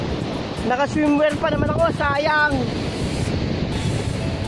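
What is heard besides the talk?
strong ocean waves at an Iloilo beach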